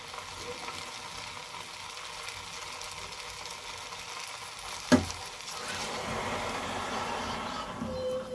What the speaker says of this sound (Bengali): আর একটু নাড়িয়ে নেব। এবার গরম জলটা দিয়ে দেবো।